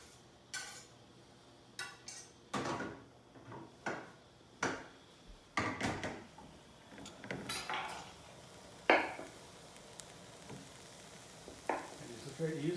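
Frothy butter being whisked in a pan, heard up close as a string of separate clinks and scrapes of the whisk against the metal, spaced unevenly over a quiet sizzle.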